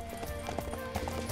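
Horse hooves galloping in Samurai Warriors 5, a quick run of rhythmic clip-clop thuds under dense battle noise and music, fairly faint and continuous.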